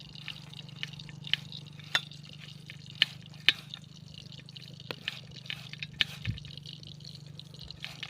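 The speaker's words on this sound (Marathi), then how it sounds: "आता हे छान आपण मिक्स करून घेऊया" Bitter gourd being mixed with dry masala and salt in a pan, heard as soft scraping and light sizzling with sporadic clicks of a spoon against the pan, close and fairly quiet with no talking.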